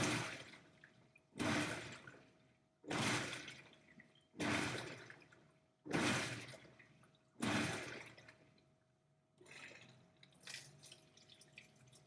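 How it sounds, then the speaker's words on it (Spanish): Top-load washing machine running its automatic load-sensing test with no clothes inside, repeated rhythmic surges as the motor turns the drum, each burst followed by a fading whir, about six cycles, faint and isolated. "automáticamente el lavarropas va a tratar de calcular por la fuerza que hace el motor cuánta agua tiene que cargar"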